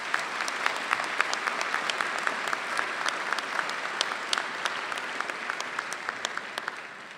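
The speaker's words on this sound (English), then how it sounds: "let's also give them a round of applause for all their love and support" A commencement audience applauds the graduates' parents, a dense, steady wash of many hands clapping with sharp individual claps standing out, continuous for the whole stretch.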